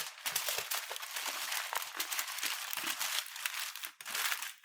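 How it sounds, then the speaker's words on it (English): Foil or paper crumpled by hand while preparing a keto shepherd's pie in a home kitchen, giving a dense, continuous crackling and crinkling close up that runs for several seconds with no talk. "And then we're going to take this, crumple it up,"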